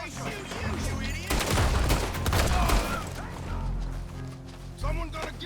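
Heavy gunfire from a shootout in the video game Red Dead Redemption 2, with dense overlapping shots and bursts throughout, loud and close, while voices shout over the battle.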